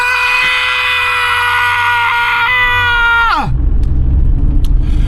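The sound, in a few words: celebration scream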